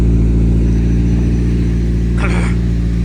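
Car engine with a full exhaust idling in a steady low rumble, close by, with a brief higher rasp near the end; no talk.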